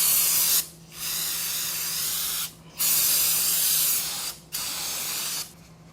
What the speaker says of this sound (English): let's get this cleaned up with a bunch of brake clean